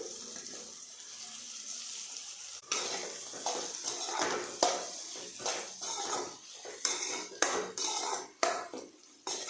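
Chopped green chilli added to a pan with ginger-garlic-chilli paste in oil and mixed, giving a crackling hiss with repeated scraping bursts of the spoon against the pan, growing more irregular toward the end.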